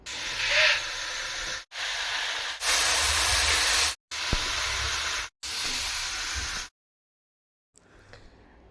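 Boiling water for biryani gives a loud, steady hissing, bubbling roar in separate bursts with abrupt cuts, then a short silence and faint clatter at the end, no voices.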